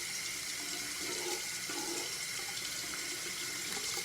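Warm water runs steadily from a tap into a sink, a constant broadband hiss that stays even and close throughout with no talking.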